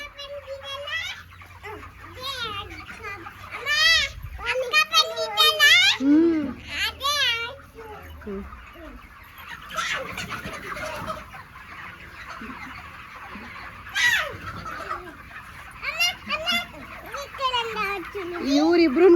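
Chickens cluck and call close by on a poultry farm, a busy flock sounding again and again over a low background hum, with voices and what sound like children's voices mixed in.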